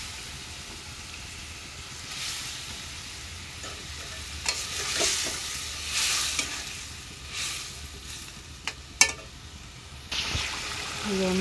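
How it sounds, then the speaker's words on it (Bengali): Fish fries in a pan with a steady sizzle while a spoon stirs and scrapes at intervals, punctuated by a few sharp clinks against the metal. "মাছটা কষাইতেছি।"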